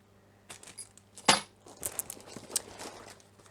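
Metal Allen keys jangle and clink while a Tycka TK102 aluminum travel tripod is unboxed, several sharp close clicks and rattles around a louder clatter, with no talk.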